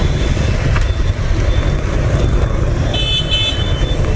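Dense street traffic jammed in front of Chợ Rẫy hospital in Saigon under dark rain clouds, a steady close roar of engines with a short horn toot near the end.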